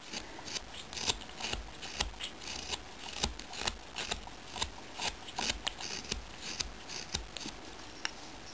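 Scissors snipping hair during a little girl's haircut, a string of quick, crisp clicks in an uneven rhythm, close and soft, with no talk over them.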